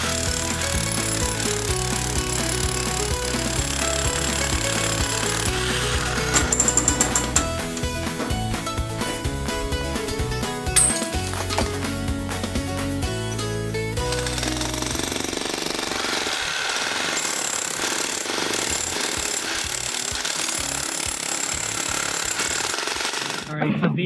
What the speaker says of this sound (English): these are the holes that we're digging out for the beams that slot in